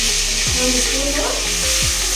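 Ginger paste fries in hot oil for a meal maker soya chunk biryani, a loud continuous sizzle with occasional stirring scrapes, close up and without speech.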